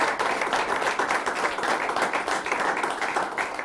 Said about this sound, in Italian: ti arriva l'applauso del nostro studio